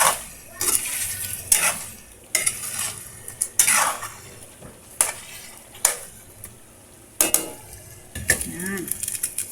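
Chicken sinigang simmering in a pot as sour sinigang mix is stirred in, with repeated clinks and scrapes of a utensil against the pot in bursts and a soft sizzle underneath, close and fairly loud, with no talking.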